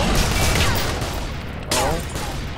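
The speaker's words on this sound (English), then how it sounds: "There is a lot of shooting going on." Rapid gunfire in the video game Titanfall, a dense burst of loud overlapping shots with a fresh volley partway through, continuous and close.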